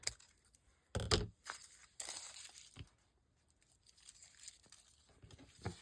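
Paper for a junk journal tag is cut and handled in short, faint bursts of tearing and crinkling, a couple of sharper rustles standing out among quiet gaps.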